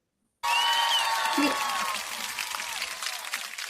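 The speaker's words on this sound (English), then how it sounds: "thank you, Joe, for doing the applause" Canned applause sound effect played on a home-selling talk show, starting abruptly as a dense, steady wash of clapping that gradually thins out, with a voice briefly speaking over it.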